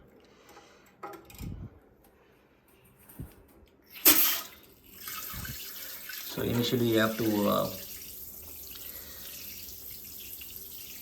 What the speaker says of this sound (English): allow some water to go out so that any air in the hose will go out completely